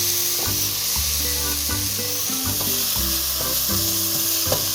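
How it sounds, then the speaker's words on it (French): Salt cod frying with onions in a pot, a loud, continuous sizzle with busy crackling and occasional stirring scrapes, heard alone without speech. "je vais venir ajouter la morue directement ici, dans cette marmite, et laisser cuire"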